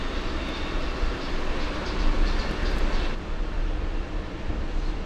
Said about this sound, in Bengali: আমাদের ট্রেন ছেড়ে দিয়েছে 12:58 মাঝেরহাট থেকে, আর ট্রেনটা পুরোটাই ফাঁকা প্রায়